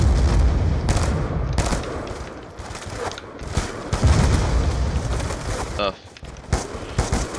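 Burst gunfire in the video game Black Ops 2 sounds as dense, rapid volleys of shots that keep rattling loudly throughout, with a brief grunt from a player over them.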